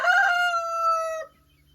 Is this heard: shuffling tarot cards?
no